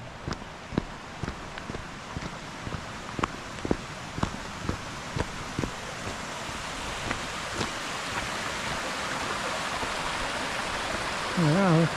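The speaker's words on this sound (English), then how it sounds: "Oh, some lovely waterfalls there, look, coming down." Waterfalls at Scale Force in the Lake District, near Buttermere, give off a steady broadband rush of falling water, with scattered sharp knocks over it.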